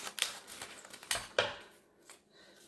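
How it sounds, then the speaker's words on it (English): Scissors snip off a piece of paper scrap while crafting a children's growth chart, giving a few sharp, close cutting clicks spaced over a couple of seconds, then quieter handling. "I'm just going to take my scissors and I'll cut that off, and it's going to go with my scraps."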